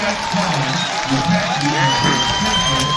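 Crowd noise at a junior college football game, a broad murmur with cheering and whoops carried from the stands, while people nearby talk over it.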